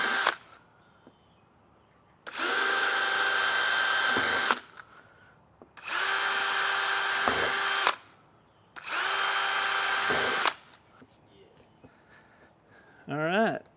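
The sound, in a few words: power drill making a pilot hole for a screw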